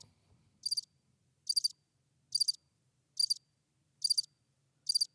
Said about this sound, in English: Yeah, crickets, boys and girls, crickets.